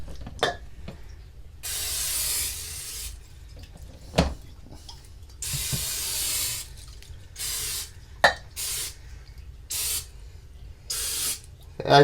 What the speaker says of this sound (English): I'm just going to spray this a little bit with some cooking spray.